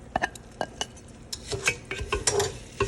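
Washed balsamic rice is stirred in a pot with scraping, clinking utensil strokes against the metal, irregular and fairly close, with a faint sizzle underneath.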